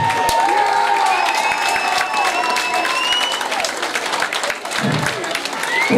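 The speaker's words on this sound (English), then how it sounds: "Now clap." Crowd applause at a boxing promotion night fills the hall with loud, dense clapping and some cheering. It holds steady throughout while a speaker's voice carries over it.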